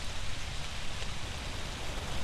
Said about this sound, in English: I love the rain. Look at the rain,